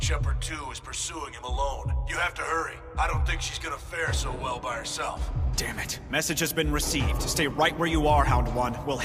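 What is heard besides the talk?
None of the usual background noises is heard.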